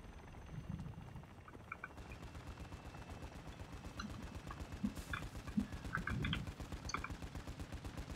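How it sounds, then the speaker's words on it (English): Gunfire in the Warzone 2.0 DMZ shooter, with rapid automatic bursts and scattered single shots going on continuously at a distance, fairly faint against steady game ambience. "You are taking effective fire."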